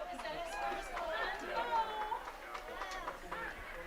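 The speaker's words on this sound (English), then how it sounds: "I'm hearing a buzz from the crowd that may be his first goal as a lacrosse player" Crowd at a boys lacrosse game after a goal, a mix of many voices chattering and calling out with occasional higher shouts and whistles, fairly distant.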